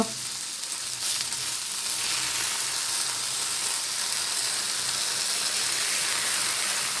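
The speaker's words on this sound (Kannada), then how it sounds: "ನಾನು ರೊಟ್ಟಿನ ತವದ ಮೇಲೆ ಹಾಕಿದೆ" Rava roti dry-roasting on a hot tawa with no oil, a steady close hiss and crackle holding evenly throughout, with no voices.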